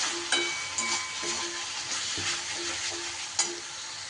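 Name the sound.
ground spices frying in a pan for egg curry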